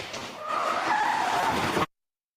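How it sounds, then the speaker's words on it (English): Tires squeal as a car skids down a residential street, picked up by a house security camera: one sustained screech of about two seconds that cuts off abruptly. "You could hear a car skidding down the street on Carlos Tapanes' house camera."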